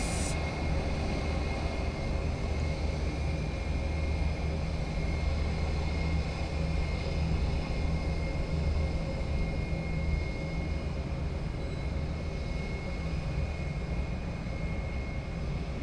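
An American Airlines Airbus A321 airliner at SJU airport, Luis Muñoz Marín International, with a loud, continuous jet engine roar and whine holding steady throughout and no talk.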